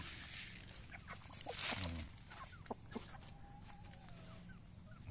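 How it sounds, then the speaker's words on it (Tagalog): Native chickens clucking outdoors, a few soft clucks and one louder squawk over a faint steady background, fairly quiet and a little distant. "ito mga native to mga busing, native na manok"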